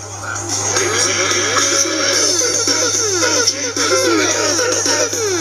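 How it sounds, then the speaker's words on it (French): Music plays loudly and steadily through a small speaker, with a constant low electrical hum running underneath. "Là c'est le son du haut-parleur."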